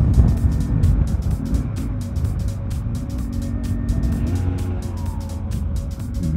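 A young rider's motorcycle at a motorcycle dealership, its engine held against the rev limiter: a loud, continuous drone with a rapid stuttering pulse that stays steady throughout, with no talking.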